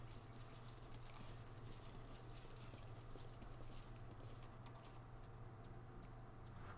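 A horse in the fantasy role-playing game Pathfinder: Wrath of the Righteous clip-clops steadily, with faint, even hoofbeats over a low constant hum and no talking.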